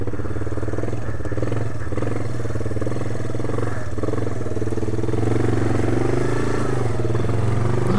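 A 1997 Yamaha Big Bear ATV engine runs steadily at a low, even idle, a close, continuous rumble with light mechanical clatter and no voices.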